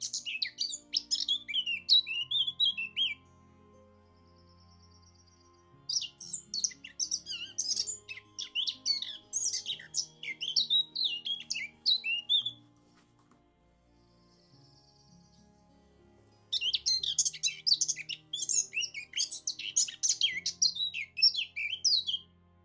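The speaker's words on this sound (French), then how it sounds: "on a le chant de la fauvette à tête noire" A Eurasian blackcap sings outdoors on a walk, its bright warbling phrases in three clear bursts separated by pauses, loud and close over a faint low background hum.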